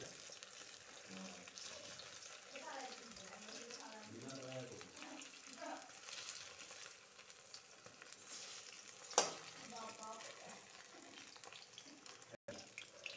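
Banana flower fritters made with rice flour, salt and turmeric crackle and sizzle quietly in a pan, a soft continuous fry with a few stirring scrapes while someone talks over it.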